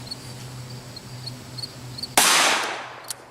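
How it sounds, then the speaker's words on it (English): A single sharp, loud .357 Magnum shot from a 6-inch Smith & Wesson revolver cracks out after a quiet stretch, its echo decaying over about a second, followed by a faint click. "Let's get the velocity of those same rounds out of the 6-inch Smith."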